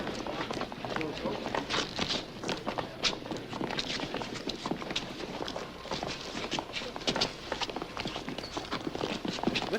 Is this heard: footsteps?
yes